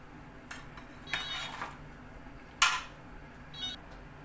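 Metal utensil clinking against a baking dish while meatballs are mixed with oven-roasted potatoes, a few scattered scrapes and louder clinks over a quiet background, no voices.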